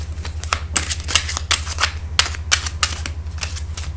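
Tarot cards are shuffled and drawn, giving a quick run of crisp, papery riffles and flicks close up, with no voices over them.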